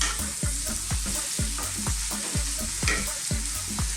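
Ingredients frying in a pan for Jamaican fried mackerel are stirred with a steady rhythm of repeated scraping strokes over a constant close sizzle, with no talking.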